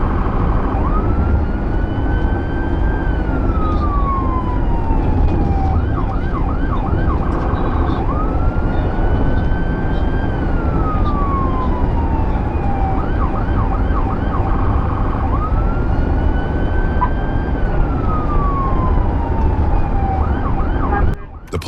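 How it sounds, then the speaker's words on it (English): Police sirens during a high-speed chase wail in repeating rising-and-falling sweeps with quick yelping bursts between them, loud and continuous over the rumble of road traffic. "The police blared their sirens relentlessly"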